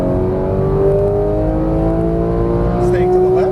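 A high-revving 475 hp Porsche 991 GT3 engine holds a steady, rising pitch as it accelerates on a track, loud and close throughout.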